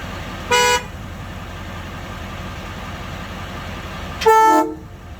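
Two loud blasts of a truck air horn, a short one and then a longer one a few seconds later, over a steady low hum, on a Chevrolet C4500 Topkick Kodiak with a homemade air system.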